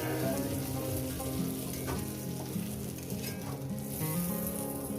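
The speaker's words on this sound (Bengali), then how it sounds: "চিংড়ি শুদ্ধ আমি কড়াটা বসিয়ে দিয়েছি একটু ভেজে নেব চিংড়িটা" Prawns fry in oil in a kadai, giving a steady, loud sizzle that runs unbroken throughout, with a low rumbling hum beneath and occasional soft crackles rising out of it.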